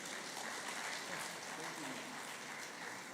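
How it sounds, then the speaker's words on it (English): A conference audience at an anniversary event claps steadily, a dense wash of many hands applauding at a distance, fairly faint and continuous throughout. "Another round of applause for her."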